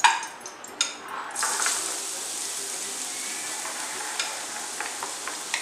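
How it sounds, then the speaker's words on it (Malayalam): Grated carrot sautéing in ghee for carrot halwa, opening with a few clinks of a utensil on the pan before a steady, dense sizzle settles in and carries on close by. "ഇനി അതിൻ്റെ അകത്തേക്ക് നമ്മളിപ്പോൾ ഗ്രേറ്റ് ചെയ്ത് വെച്ചേക്കണ ക്യാരറ്റ് ഇട്ട് കൊടുക്കാം"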